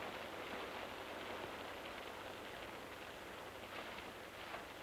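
Steady rain falls outside a barn, a constant hiss of drops on surfaces with a faint low hum beneath, even and unbroken from start to finish with no voices.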